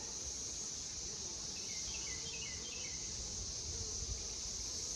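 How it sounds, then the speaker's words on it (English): Worker honey bees buzz in an open Layens hive, a steady dense hum with faint outdoor chirps mixed in. "Got pollen, lots of pollen, lots of worker bees."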